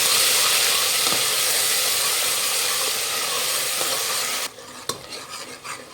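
A spoon stirs ground onion, ginger, garlic, cinnamon and clove masala frying in a pan, giving a steady close sizzle with scraping strokes, which drops off abruptly near the end and leaves a few clinks.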